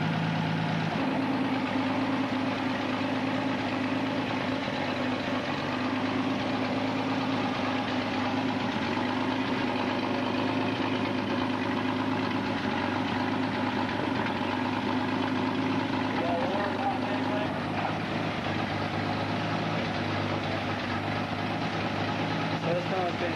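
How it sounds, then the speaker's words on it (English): A 1956 Australian-assembled Ford Zephyr Six sedan's six-cylinder engine idles steadily after its first start in three years, a constant mid-low hum heard at moderate distance with someone talking over it. "Zephyr motor, mate."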